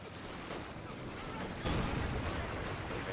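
Rifle and machine gun fire in a real-time strategy game, a dense crackle of rapid shots with a heavier burst and boom about halfway through, continuing loudly to the end.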